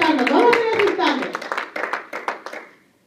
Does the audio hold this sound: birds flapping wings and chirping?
no